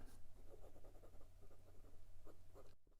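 A MaJohn RS1 fountain pen with a very fine nib scratches across paper in short, closely spaced strokes, a soft dry scraping that continues steadily and stops abruptly near the end.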